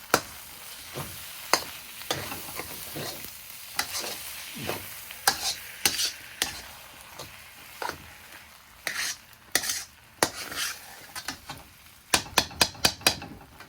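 Chopped egg being worked into shrimp fried rice in a pan, with a steady sizzle under repeated scraping and clanking utensil strikes against the metal, ending in a quick run of sharp taps.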